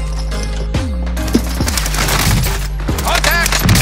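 Video game gunfire: loud bursts of automatic weapon shots with sharp cracks and echoing booms, mixed with game effects and voices talking over the action.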